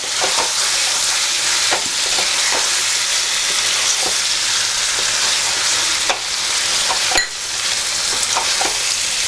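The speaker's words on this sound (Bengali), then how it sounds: "এবার এটাকে আমরা ভালো করে নাড়িয়ে" Chicken curry frying in a pan is stirred, giving a loud, steady sizzle with repeated scraping strokes of the spoon throughout, close up and with no talk.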